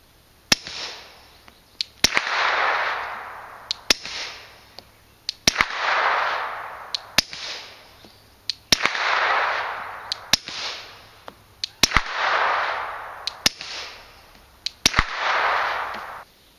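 Suppressed rifle firing a slow series of single shots, alternating subsonic and supersonic rounds; sharp cracks recur every second or so, some followed by a rising, decaying wash of echo across open ground.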